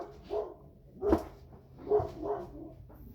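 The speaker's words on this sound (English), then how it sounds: "My dog's going crazy." A dog barks several times in an irregular series of short, mid-pitched woofs, moderately close, in a workshop setting where a transmission is being rebuilt.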